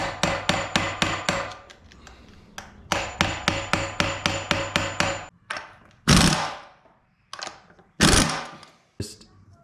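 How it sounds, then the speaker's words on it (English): A flathead driver struck with a hammer knocks out lock notches on a Lexus GS400 AR5 transmission output nut, giving loud, close, rapid bursts of metallic taps with short pauses and a few heavier separate blows. "take a flathead and knock out these little lock notches"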